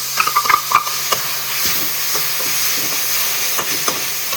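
Ginger, garlic and green chili fry in a pan with a steady hiss, broken by irregular scraping taps of a spoon stirring them, loudest in the first second.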